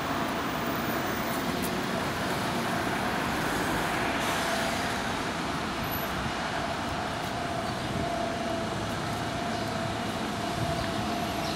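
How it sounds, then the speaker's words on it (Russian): Street traffic in Dubai, a continuous low rumble of cars and larger vehicles passing at a moderate distance, steady and fairly quiet with no distinct horns or voices. "Там машина какая-то едет."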